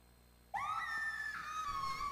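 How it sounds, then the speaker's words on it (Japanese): A woman's shrill scream in the Kindaichi Shōnen no Jikenbo 3 Seiryū Densetsu video game bursts in suddenly and holds loud and sustained for about a second and a half, with no talking. "女性の悲鳴が聞こえたような。"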